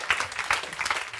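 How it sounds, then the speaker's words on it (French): Brief burst of applause and cheering from a church congregation during a French-language Sunday sermon on the Holy Spirit, with uneven claps and a few vocal accents over about a second. "Donne-moi une acclamation pour que je puisse avancer."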